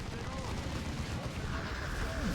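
A grenade blast in the real-time strategy game Dawn of War 2: a dense, loud rumbling roar of battle explosions and gunfire fills the whole moment, with a voice speaking over it.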